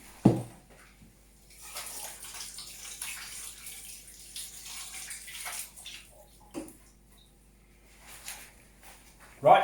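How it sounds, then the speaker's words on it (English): Running tap water while hands are washed at a kitchen sink, a steady hiss with some splashing that swells and fades over several seconds, with a few clunks at the start and end. "Right, I'm just going to wash my hands,"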